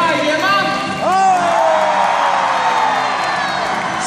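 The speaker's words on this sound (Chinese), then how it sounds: "尖叫声可以再大一点吗" A theater audience at a beluga whale show at Chimelong Ocean Kingdom cheers, whoops and screams in a loud, sustained roar, with shrill high voices rising above the crowd throughout.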